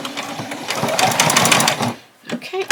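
Sewing machine back stitching on apron fabric, a close, rapid mechanical whir for about two seconds, then a short pause and a few brief bursts as the stitch reverses; a voice speaks faintly near the start.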